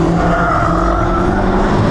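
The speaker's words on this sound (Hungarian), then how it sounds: "Jani drasztikusabban megy és nagyobb gázzal, igen, próbálja fordítani, ugye olyan gyönyörűen csúszik" BMW X6 M sliding through a corner on a race track at full throttle, a loud, continuous engine roar with tire scrub filling the whole moment, close and sustained.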